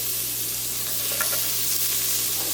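Onion sizzles as it is stirred into a pot of Guyanese chicken curry with chicken wings, a steady hissing fry with a brief scrape or two of the spoon, close and continuous with no voices.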